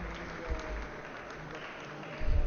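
Visitors seated in the public galleries of the Italian parliament chamber applaud, a soft, moderately distant patter of clapping with murmuring voices, swelling again near the end.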